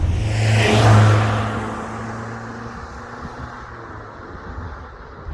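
A first-generation Toyota pickup truck drives on a gravel road, its engine revving near and loud at first, then easing into a steady drone as tires crunch over loose stones, with no voices.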